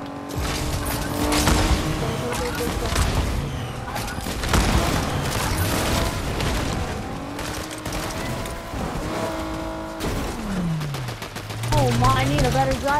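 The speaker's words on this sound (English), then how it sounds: "I'm gonna blow up the car." Fortnite match with a car blown up amid gunfire: dense, loud stretches of rapid shots, engine roar and tire skids, with a sweeping vehicle tone near the end, all layered over a busy game soundtrack.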